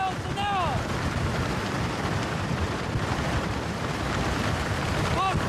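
Category 3 hurricane wind blowing at about 179 km/h, a dense, steady roar of broadband rushing noise that stays loud and unbroken throughout, with brief whistling gusts near the start and end.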